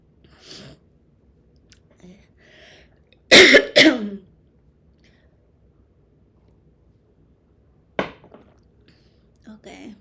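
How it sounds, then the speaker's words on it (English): A person coughs and clears their throat in a few harsh bursts, the loudest pair close together and a shorter one later, with quiet gaps between. "This cough is annoying."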